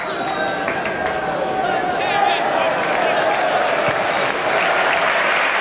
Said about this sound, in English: Crowd appreciated that.